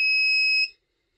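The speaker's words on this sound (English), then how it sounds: "Okay, so this sounds like a normal buzzer." An Arduino active buzzer from an Elegoo Uno R3 starter kit sounds one steady, shrill electronic tone at close range, holding for about two-thirds of a second before cutting off into silence.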